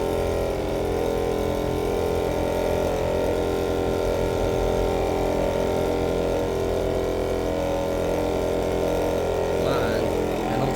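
Cotton candy machine spinning candy from leftover batch, a steady close motor whir and hum running evenly without pause, fairly loud with no speech over it.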